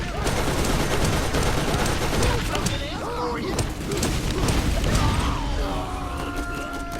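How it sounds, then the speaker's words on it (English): A turret gun blows up in Borderlands amid loud, rapid gunfire and crashing blasts. The bursts pile up densely and continue almost without pause. "Krom blew up alongside this stupid turret gun"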